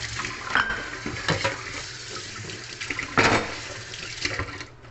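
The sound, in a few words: washing in the kitchen sink, running water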